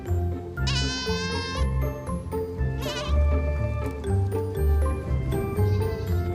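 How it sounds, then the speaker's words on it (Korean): Black goats bleat repeatedly on a mountain farm, several wavering cries close by with a herd moving around, a faint tinkle now and then between calls. "평소와 다름없이 무리지어 산속을 거니는 염소를 보니 성남 씨는 이제야 한숨이 놓입니다"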